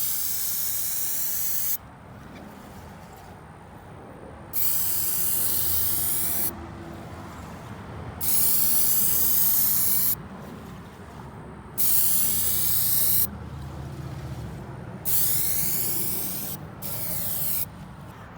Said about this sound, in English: so we sprayed our first coat of primer